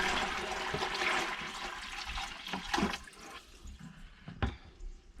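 Water poured from a container into a bucket for a rodent drinking-valve watering system, a splashing, gurgling pour that rises and tapers over several seconds, with a few sharp clunks near the end, nearby and moderately loud.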